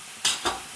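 Spice powders (turmeric, chili, coriander, garam masala) stirred into sautéed soya keema in a frying pan, two quick scraping strokes close up with a faint sizzle underneath, no voices.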